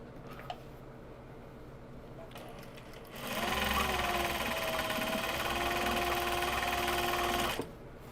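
A sewing machine stitches a bag in one steady burst of a few seconds, close and fairly quiet, with quiet room sound before and after it.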